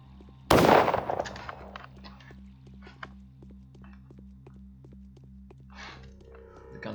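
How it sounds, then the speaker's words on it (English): A loud gunshot blast from the video game Pathologic Classic HD cracks out near the start and decays, followed by a few fainter reports, over a steady pulsing low game music loop. "The gunshots always"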